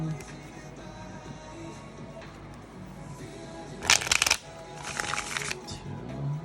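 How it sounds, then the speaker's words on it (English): Tarot cards being shuffled by hand, a brief burst of crisp riffling followed by a softer second shuffle, close and moderately loud over a quiet room hum. "Let's just do 5 shuffles."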